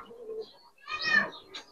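Young Giribaz pigeon cooing close by, a low soft murmur followed by a louder rolling coo, brief and clear in a quiet setting.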